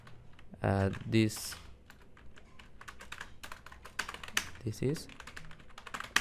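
Fingers tapping on a computer keyboard, light irregular keystrokes with a few quicker bursts, interrupted by someone speaking briefly at the start and again near the end.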